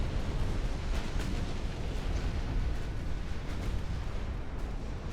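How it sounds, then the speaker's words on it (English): A ship's magazine detonates in the naval battle game Ultimate Admiral: Dreadnoughts, a heavy, rumbling blast wash that rolls on continuously with faint sharper cracks scattered through it. "One of our magazines must have detonated."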